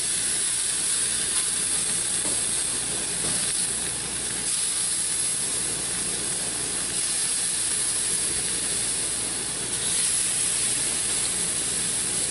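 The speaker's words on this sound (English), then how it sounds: "hearing the meat sizzle as it hits the hot grates" Yuengling-marinated pork ribs sizzle steadily on preheated hot grill grates, a loud continuous hiss that stays even and close throughout, with no voices.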